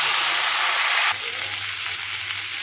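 Potatoes and onions frying in a pan, a loud, even hiss of sizzling oil that drops suddenly to a softer sizzle partway through, close and with no talk.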